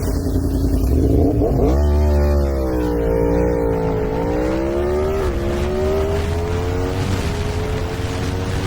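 Reprogrammed Yamaha MT-10 motorcycle engine fires up and revs loudly and close, a rising, wavering engine note held steady over several seconds with no talking.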